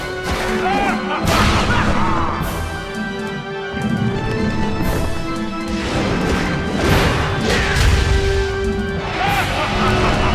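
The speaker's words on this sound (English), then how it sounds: "Here comes my least favorite attack of his. Those fire pillars." Boss Walter unleashes his fire-pillar attack in Castlevania: Lament of Innocence on PS2: a loud, continuous run of crashing, roaring bursts that surge several times, layered over game music with brief voice sounds.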